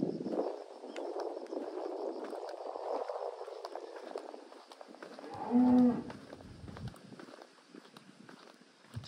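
Footsteps crunch along a rural path on Yoron Island past a cattle farm among sugarcane fields, then a single cow gives one deep, fairly close moo midway before the walking continues quietly.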